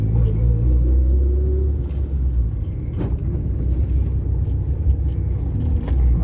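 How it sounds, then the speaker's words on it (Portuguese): Car driven during a driving lesson on a curving road, engine rumbling steadily and loud close-up through acceleration and a gear change into third, with faint interior rattles and brief clicks over the drone. "acelera o carro e põe terceira"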